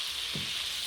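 Chopped onion sautéing in a pan for a chicken pot pie filling gives a brief, steady, close sizzling hiss with a soft low bump partway through.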